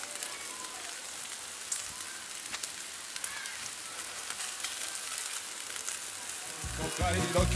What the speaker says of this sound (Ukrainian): Смажимо недовго, одну сторону, потім другу